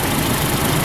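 A car engine idles steadily with a faulty ignition coil causing a misfire, a close and loud continuous rumble with a slightly uneven pulse, heard alone for under a second.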